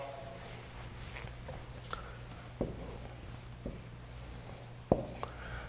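Chalk or a marker scratches across a lecture board while a rod diagram is drawn for a physics class, producing light strokes and a few sharper taps and clicks over a low background hum.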